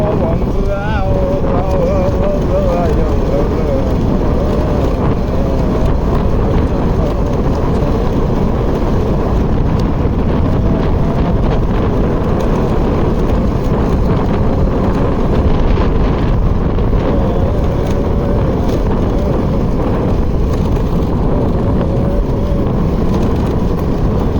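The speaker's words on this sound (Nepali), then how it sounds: "कस्तो हावा चलिरहेको छ" Strong wind blows outdoors near a hillside home in Nepal, buffeting the microphone with a loud, constant rumbling roar that runs unbroken throughout, and no other sound rises clearly above it.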